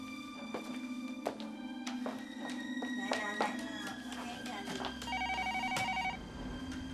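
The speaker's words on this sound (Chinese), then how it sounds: "金宝， 哎， 拍一个电话过去，我甲伊讲。" A telephone in an office rings in short repeated electronic bursts over a low steady hum, with scattered knocks and a voice speaking now and then in the room.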